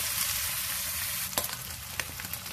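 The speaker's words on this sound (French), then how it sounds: "Je vais les faire roussir bien comme il faut" Pieces of conch meat (lambi) browning in a hot pan for a Creole stew give a steady close sizzle, broken by a few sharp clinks and stirring scrapes in the second half.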